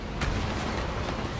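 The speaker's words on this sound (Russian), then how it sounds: "Взрывы." Dense, loud blasts from explosions in the video game Resident Evil 2 Remake, a continuous booming roar with a sharp burst near the start, close and filling the whole moment.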